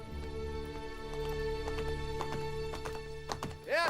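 Horse hooves clip-clop in a steady, close rhythm of sharp taps, ending in a loud, quavering whinny over the final moments.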